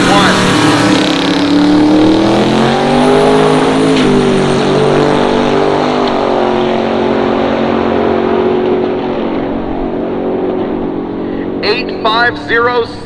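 A big-block, pump-gas 1956 Chevy drag car making a full-throttle pass, a loud, sustained engine roar that climbs through gear changes then fades away, with crowd or announcer voices rising near the end.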